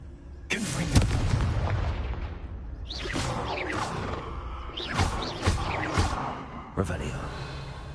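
Confringo fiery blast spell in the Hogwarts Legacy video game on PS5, a sudden booming explosion with crackling bursts and whooshes that continue in several follow-up blasts, while a person speaks over the game.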